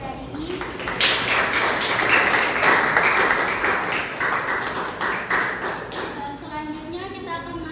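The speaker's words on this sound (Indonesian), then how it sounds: "beri tepuk tangan untuk kelompok 3 pada hari ini" Classroom audience clapping for a student group after its Indonesian-language presentation, a steady patter of many hands filling the room for several seconds, with some voices mixed in.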